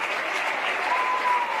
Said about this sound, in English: Very impressive group of seniors as they get the applause from the Arabians fans